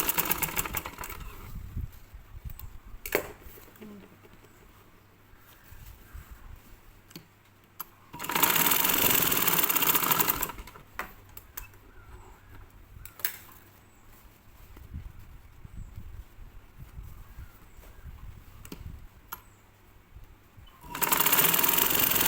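A sewing machine stitches a tuck in blouse fabric, running in two loud, rapid mechanical bursts of a few seconds each, separated by quieter handling of cloth and light taps.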